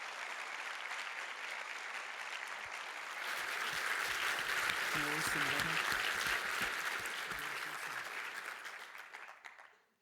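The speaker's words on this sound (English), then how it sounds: "give them a big round of applause to show our gratitude" An audience breaks into sustained applause that swells, holds steady for several seconds with a voice briefly audible, then fades away.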